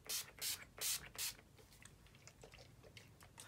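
Urban Decay All Nighter setting spray is misted onto a face in four quick, close hissing bursts, followed by faint rustling.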